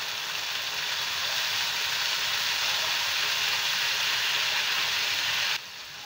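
Tomato frying in a pan with ginger-chili paste, a loud, steady, close sizzle holding without break for several seconds before dropping abruptly to a softer hiss.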